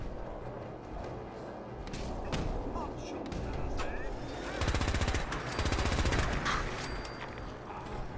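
A radiation weapon in Fallout 4 fires in rapid rattling volleys, two dense bursts of quick pulses standing out over busy, noisy game ambience.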